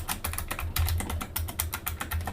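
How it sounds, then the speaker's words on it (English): Rapid keystrokes on a computer keyboard as a password is entered, a steady run of close, crisp clicks with short pauses and no talking. "I'm going to go ahead and type in our password."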